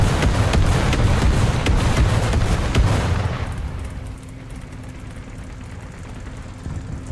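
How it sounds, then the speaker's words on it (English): Heavy artillery barrage explosions in the tank game War Thunder, a dense rumbling roar of blasts for about three seconds that then cuts to a quieter low background with faint distant thuds. "get the hell out of the artillery barrage area"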